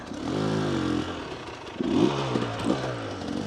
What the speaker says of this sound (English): Just try to keep the revs fairly low as I'm doing it.